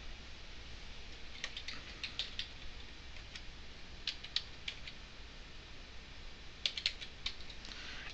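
Computer keyboard keys clicking in a few quick bursts, close and quiet, separated by short pauses over a faint low background hum, with no one talking.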